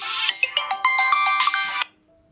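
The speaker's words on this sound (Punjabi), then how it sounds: "ਜੋਤ ਦਾ ਫੋਨ" A phone ringtone plays a bright electronic melody for about two seconds, then cuts off abruptly into near silence.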